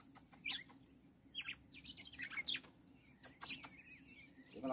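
Red-cowled cardinal (galo de campina) singing outdoors, with bright, varied whistled phrases and chirps in irregular bursts over steady background noise, fairly close and moderately loud.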